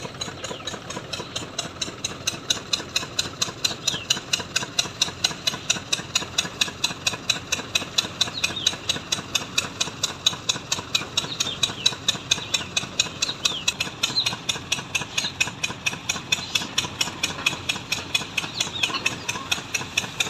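A tractor engine idles steadily and close by, with an even, rapid knocking pulse and a metallic rattle that continues throughout.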